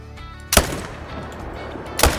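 Two sharp rifle shots aimed at deer in the hunting game Call of the Wild, about a second and a half apart, loud and close, with no talk between them.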